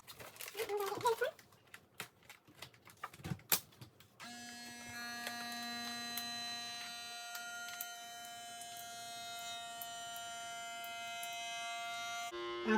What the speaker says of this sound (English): I think that this vacuum sealer was a great investment.